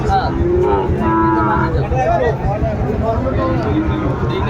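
Cattle, including Sahiwal bull calves, low and moo repeatedly amid a busy crowd of voices and background murmur at a livestock market, the calls overlapping at close to moderate distance.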